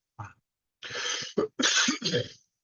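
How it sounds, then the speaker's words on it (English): A few sharp, close coughs in quick succession, hoarse and throaty, with short pauses between bursts. "I still have a bit of a cough."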